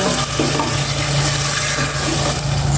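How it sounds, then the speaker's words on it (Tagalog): Loud, steady sizzling of sardines sautéing in a hot pan in a home kitchen, with continuous crackling hiss and scraping stirring throughout. "Gisa mo muna yung ano, sardines."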